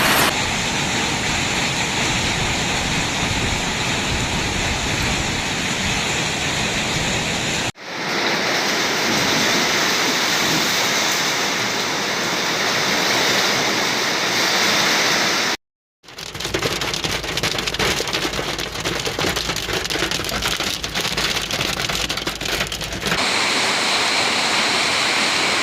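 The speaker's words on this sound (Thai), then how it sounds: "ลูกเห็บตกแล้วนะครับมาพร้อมกับฝนฟ้าคะนองนะครับ" Heavy thunderstorm rain mixed with small hailstones pours down in a dense, continuous hiss and patter, loud and steady across several cuts, with no talk.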